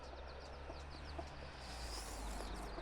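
Hen clucking near her chicks, with short, faint clucks and soft peeping over a steady low background hum.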